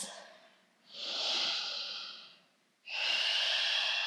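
Slow, deep yoga breaths during a flow session: a long audible inhale through the nose, a pause, then another strong airy exhale, close and clear with no talking.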